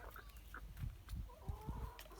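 Chickens cluck in low, soft bursts close by, with a few higher chirps from little chicks, quiet and brief in an outdoor yard.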